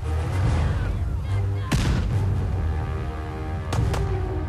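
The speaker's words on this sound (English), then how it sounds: "now we're being attacked, and that's a grenade" A grenade explosion in the video game Fallout 4 lands in a loud burst amid heavy gunfire and battle noise, followed by two more sharp cracks.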